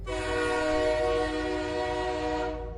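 A train horn sounds one long, sustained, loud blast that holds steady and then tapers slightly at the end, with a low rumble of rail traffic underneath.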